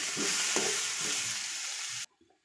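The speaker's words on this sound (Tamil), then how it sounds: "அதோட இந்த தக்காளியும் கொட்டிக்கிட்டு நல்லா வதக்கிட்டோம்" Onion and tomato sauté in a pan for a spicy chutney, giving a loud, steady sizzle with a few stirring scrapes near the start. The sizzle cuts off abruptly near the end, leaving near silence.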